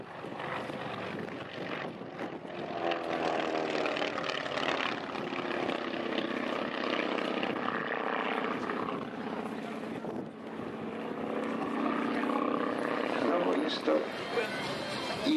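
A PZL TS-8 Bies propeller trainer flies a display at the Góraszka 2010 air show, its engine droning steadily and loudly throughout while an announcer talks over it.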